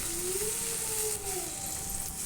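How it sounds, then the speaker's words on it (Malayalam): Okra sautéing in oil in a pan gives a steady, close sizzling hiss that runs without a break, with a faint tone sitting underneath. "ഒരു ചീൻചട്ടി വെച്ചിട്ട് അതിൽ കുറച്ച് ഓയിൽ ഒഴിച്ചിട്ട് നമുക്ക് ആദ്യം ഈ വണ്ടയ്ക്ക വഴറ്റിയെടുക്കണമല്ലോ"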